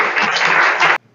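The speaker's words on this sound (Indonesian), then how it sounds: "Kita beri tepuk tangan." A class applauds after a group presentation, a short, loud burst of many hands clapping close by that cuts off abruptly after about a second.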